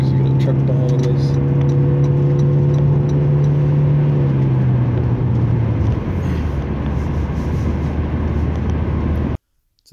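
Toyota Prius Prime plug-in hybrid accelerating on a highway in 0°F cold, giving a steady low drone with a rising whine that drops in pitch midway, continuous road and engine noise throughout before cutting off near the end.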